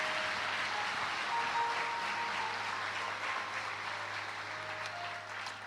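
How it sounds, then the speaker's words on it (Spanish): Church congregation applauding a guest preacher, a continuous wash of clapping at moderate distance with faint sustained tones underneath, gradually easing off. "Démosle un aplauso al hombre que trae el plato fuerte"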